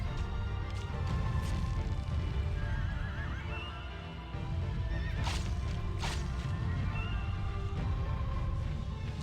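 A horse in the video game Shadow of the Colossus neighs and whinnies several times, shrill, wavering calls rising over a loud, rumbling background of hooves and movement.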